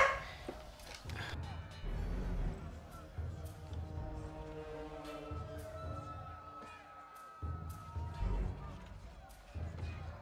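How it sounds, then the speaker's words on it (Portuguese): Dogs barking in a room, with intermittent barks and yips mixed under a person talking steadily and faint game sounds. "desculpa os cachorros aí"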